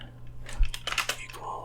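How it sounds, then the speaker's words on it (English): Slow typing on a laptop keyboard held in a lap, a handful of soft, uneven key taps spread over a second, close and quiet with faint whispering nearby. "you're gonna have to deal with my slow typing"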